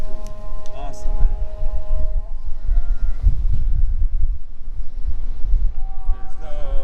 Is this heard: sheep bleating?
yes